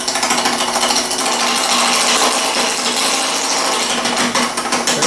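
Wood lathe turning a Bradford pear root with a roughing gouge, a continuous loud, gritty shearing roar with a fast rhythmic chatter throughout, close up.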